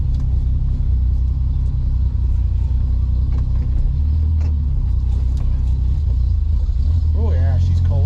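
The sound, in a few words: 1965 AMC Rambler American 440 engine running while driving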